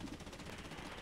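Aircraft machine gun fire in the DCS flight simulator, a dense rapid burst of rattling shots running continuously through the moment over a steady engine drone.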